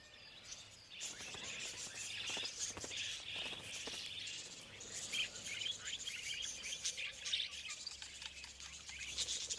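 Wild green budgies chirp and twitter in a busy chorus along a riverbank in breeding season, with soft fluttering and rustling beneath the continuous calls.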